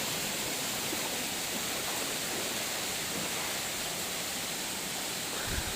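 Steady, dense rush of falling water from the Rayala Cheruvu waterfall near Tirupathi, a broadband roar filling the whole clip without pause, close and continuous with no voices.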